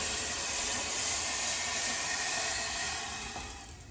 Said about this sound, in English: We're gonna take the stock and put it right back in